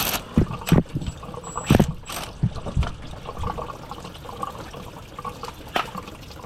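Fluid draining and dribbling from a turbo actuator just removed from a Ram truck's 6.7 Cummins diesel, a soft trickling wash of liquid with a few louder splashy knocks near the start, close by and with no talking.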